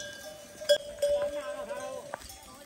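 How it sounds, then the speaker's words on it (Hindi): Local desi sheep in a village inside the jungle bleat in a few short calls, with a faint clink like a bell and soft hoof sounds, while people talk over them. "और ये देसी भेड़ है, ये पूरी देसी भेड़ है।"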